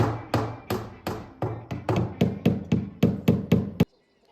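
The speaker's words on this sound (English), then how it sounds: "with the Everlast siding you need to put the nails into a stud" A hammer drives nails through Everlast siding into wall studs: about a dozen sharp, evenly spaced blows in quick rhythm, close and loud, ending abruptly.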